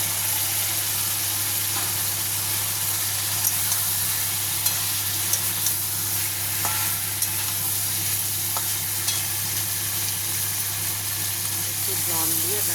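Fried cauliflower and potato stirred into spice masala in a pan give a continuous loud sizzle with faint scattered scrapes under a constant low hum.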